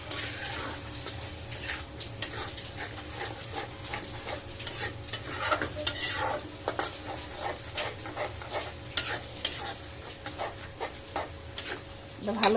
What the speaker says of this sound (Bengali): এগুলো আবার একটু ভালো করে নেড়ে চেড়ে নিব। মশলাটা ভালো করে কষাইতে হবে।